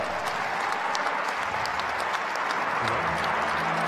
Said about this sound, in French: Je voudrais qu'on puisse les applaudir très fort.